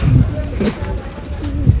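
Pigeons coo at a Nashik pigeon festival, with several low, rounded coos rising out of steady background noise and a voice talking over them.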